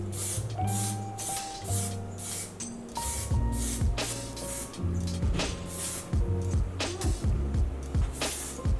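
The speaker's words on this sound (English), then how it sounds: "Continue spraying and moving at the same time." A spray paint can fitted with a skinny cap hisses in repeated short bursts, each a loud close spray lasting under a second, with brief gaps and faint background noise between them.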